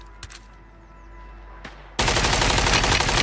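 Heavy automatic gunfire in Call of Duty: Warzone, starting abruptly after a quieter stretch of faint game ambience and a couple of isolated pops, then a loud, dense, continuous burst of rapid shots.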